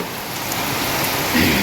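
Heavy rain pouring onto a terrace and sheet roof, a dense, loud, continuous hiss of drops with no break.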